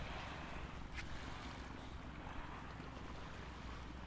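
Seaside beach ambience at a camping spot in Quezon, with a steady broad wash of waves and wind noise, fairly faint and continuous, no voices.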